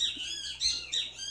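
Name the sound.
birds singing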